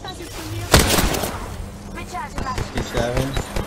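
Sharp gunshot bursts from the Apex Legends video game, one loud crack near the start followed by lighter scattered shots, with a player talking over the action.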